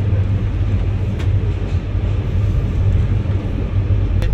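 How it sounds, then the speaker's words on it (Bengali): Passenger train rolling from Benapole to Jessore, a steady loud low rumble and rattle of the carriage in motion, continuous throughout with no talk. "ট্রেন খুব অল্প সময়ের মধ্যে চলে যায় যশোর"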